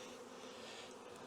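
Honey bees buzz densely and steadily around a queen-rearing cell builder, a close, continuous hum with no voices over it.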